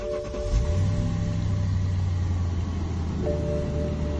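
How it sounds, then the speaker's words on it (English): A 2005 BMW 6 Series engine cranks and fires, then settles into a steady, close idle with a low hum and a slight shift in tone near the end. "And then we can try start the car."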